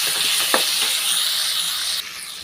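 Small onions and chopped tomatoes sautéing in a pan for chutney give a close, steady sizzling hiss, with a few soft stirring taps and a slight drop in intensity near the end, no voices.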